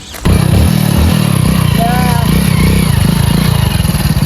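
An old scrap motorcycle engine starts and runs loud and close, a steady rough putter throughout, with people talking over it.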